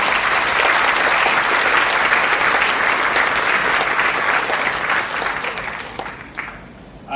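Sustained audience applause at a 100th milestone Toastmasters club meeting, a dense, loud wash of clapping that holds steady for several seconds, then thins and fades near the end.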